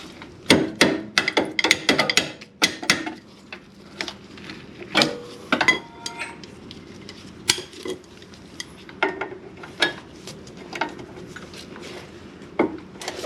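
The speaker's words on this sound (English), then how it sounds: "I'm using an 18-inch breaker bar." Sharp metallic clanks and ratcheting knocks from an 18-inch breaker bar and socket breaking loose bolts on the rear suspension of a 2005 GMC Envoy during a brake and upper control arm job, coming in irregular close bursts with quieter pauses between.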